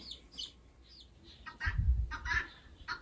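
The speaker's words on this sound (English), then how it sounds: "Those little chicks are only a couple of weeks old and they're a little bit too small to mix in with the rest of the flock." Couple-week-old chicks headed for a barn brooder give repeated high, thin cheeps in short bursts, close by, over soft shuffling and rustling, with no voices.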